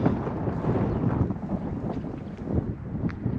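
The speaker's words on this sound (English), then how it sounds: "Here comes another little bit of wind" Strong 15-25 mph wind gusts roar across a GoPro Hero 8 Media Mod microphone in a dense, continuous low rumble, swelling and easing without a break.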